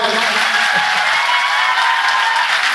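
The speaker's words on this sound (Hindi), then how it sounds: "अगर अच्छा लगा हो तो जोरदार तालियां हो जाएं भाई।" Enthusiastic audience applause at a stage event, a continuous, dense wash of many hands clapping with faint crowd murmur underneath, steady and fairly loud throughout.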